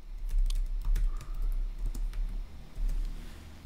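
Quick clicking keystrokes on a computer keyboard tap out in an uneven, close stream, with short bursts and brief gaps while a command is entered.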